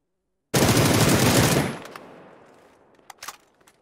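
A PUBG automatic rifle fires a rapid, loud burst of shots for about a second, then a reverberant tail, followed by a few scattered distant single shots, with no talk.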